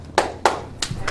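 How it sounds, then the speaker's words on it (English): Audience applause for Air Force veterans at a live comedy show in Chugiak, Alaska: a few sharp claps rising over a steady patter of clapping, close and fairly loud. "Let's hear it by applause if you served in the Air Force"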